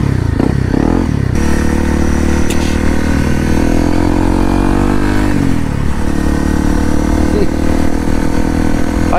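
A 2018 Honda CRF250L dual-sport motorcycle engine runs loud and close while riding, with a steady drone that shifts pitch as the rider changes gear and the revs rise and fall.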